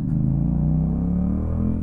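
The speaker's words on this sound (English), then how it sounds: "Hopefully you can hear that awesome exhaust." A motorcycle exhaust rumbles steadily while riding, a deep, close engine drone holding a low pitch with a slight rise in revs toward the end, no talk.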